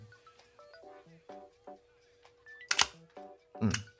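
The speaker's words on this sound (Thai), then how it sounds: "ผมจะลองกดชัตเตอร์เบาๆนะ" A film camera's shutter pressed at speed 20: two sharp mechanical clicks near the end, preceded by faint tonal clicks and handling noises, close and quiet.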